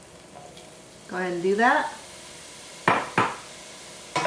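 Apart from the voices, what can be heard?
soy curls cooking in a hot pan on medium-high heat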